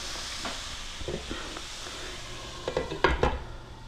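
Protein cooking in a covered pan during home meal prep, a soft sizzle and hiss throughout with a few light clinks of utensils and a louder clatter near the end, no talking.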